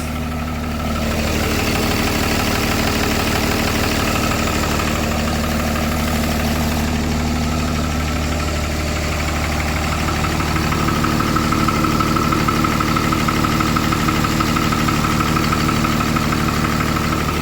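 A swapped high-output Cummins diesel engine idles steadily after its first start, a loud, even low rumble with slight vibration that grows a touch rougher near the end.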